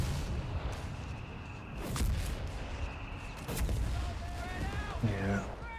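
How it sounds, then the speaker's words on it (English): Mortar half-tracks fire in a Company of Heroes 3 battle, giving several faint, scattered booms and distant shots amid dense battlefield noise. "now they're gonna get shot instantly by the mortar half tracks"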